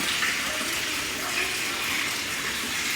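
Tap water runs in a steady, even gush, filling a sink or vessel while eggs are being prepared in a home kitchen.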